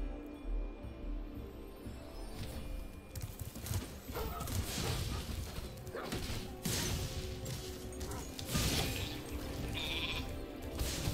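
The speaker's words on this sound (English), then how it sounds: "He's just a sheep." Sheep bleating in Spyro the Dragon, several nasal bleats amid busy game effects and crashing noises, fairly loud and continuous for around ten seconds.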